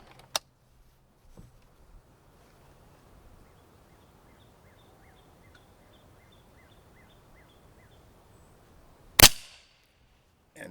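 A Walther Reign air rifle fires single shots: a sharp crack at the start, a quiet stretch with faint ticks, then another loud crack near the end, close and isolated with no talking.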